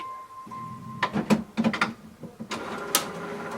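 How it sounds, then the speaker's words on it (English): An HP Officejet 6962 inkjet printer initializes after its lid is closed. A steady electronic tone gives way to a low motor hum, then a close series of mechanical clicks, clacks and whirs, with no one speaking. "it's checking the printer, please wait"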